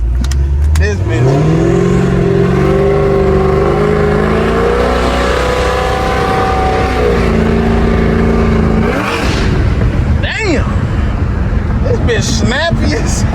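A fully built Chevrolet Trailblazer SS engine revs hard on its first start-up, a loud, close, sustained rising and falling roar with strong harmonics, then dropping back before short blips; people talk excitedly over it.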